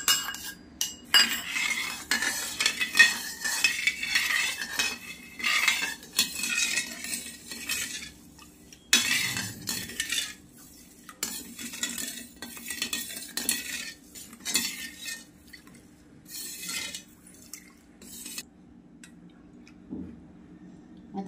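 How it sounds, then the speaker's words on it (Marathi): Sugar being stirred into milk in a pan, a metal spoon clinking and scraping against the sides in quick irregular taps, louder early on and then quieter with pauses. "ह्याच्यात आहे ना पहिले साखर टाकून हलवून घ्यायची"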